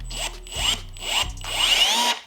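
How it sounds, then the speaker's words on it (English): Power drill boring a bolt hole in a car, three short whirring bursts that rise and fall in pitch, close and loud with brief pauses between them. "drill"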